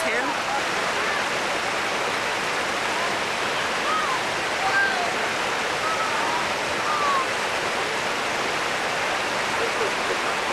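Hot water rushes in a boiling river, a steady broadband roar of flowing water that stays even and close throughout, with faint bird calls over it.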